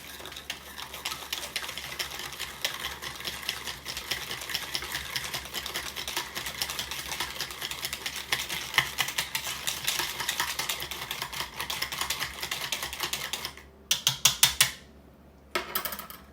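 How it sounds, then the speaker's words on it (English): A small whisk beats milk for a lemon cream icebox pie filling in a bowl, making a rapid, continuous rhythmic clicking that runs steadily and ends in a few sharper taps. "I'm going to whisk it up here."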